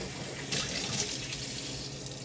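Cold water runs steadily from a tap in a continuous, fairly quiet hiss and splash, rinsing freshly made butter, with no voices.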